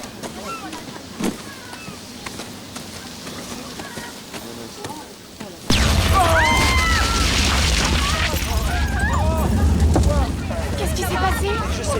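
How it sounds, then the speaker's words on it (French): A sudden loud boom erupts in a film scene, cutting in after a quiet stretch with a faint voice and sustaining as a heavy low rumble with crackling debris and burning noise for several seconds. "une explosion, on dirait"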